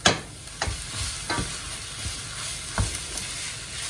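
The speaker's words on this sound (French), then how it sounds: "Ok, notre échalote est prête. On va ajouter simplement notre saumon." Fresh salmon sizzles in a pan with shallots, with a steady frying hiss close up and several sharp scraping stirs at irregular intervals, no voices.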